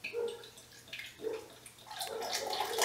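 Beer is poured aggressively into a glass, giving splashing, gurgling liquid bursts that grow louder and fizzier toward the end, with no voices over it.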